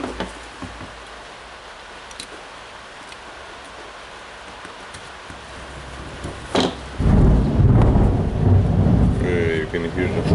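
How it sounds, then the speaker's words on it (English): A thunderstorm rages outside during a repair of a Bosch GBH18V-20 hammer drill: steady rain hiss with a low rumbling thunder roll building loud in the second half, and some indistinct voice sound underneath. "You can hear the storm outside."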